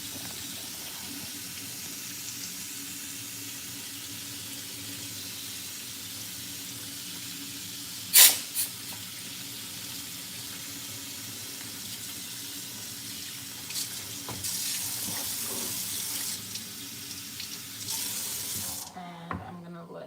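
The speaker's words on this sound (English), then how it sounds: "I am gonna pour cold water on the side of it." Cold water runs steadily from a kitchen tap onto the side of a cooking pan in a home kitchen while making butter chicken, a continuous hiss and splash with a sharp clank partway through and the flow growing louder near the end.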